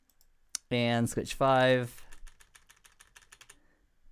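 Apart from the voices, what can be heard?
typing on a computer keyboard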